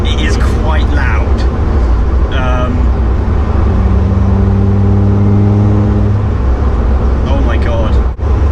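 A remapped Land Rover Defender with a Td5 diesel engine accelerates hard, giving a loud, sustained, rising drone and whine from inside the cab, with a voice speaking over it.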